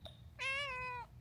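A single cat gives one clear, drawn-out meow, close and loud, after a brief faint squeak at the start, in an otherwise quiet room.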